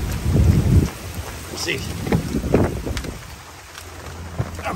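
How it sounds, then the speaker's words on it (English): Steady rain falls with low rolling thunder outside near a truck, the heaviest rumble at the start, and someone speaks briefly. "Oh Lord, it's raining."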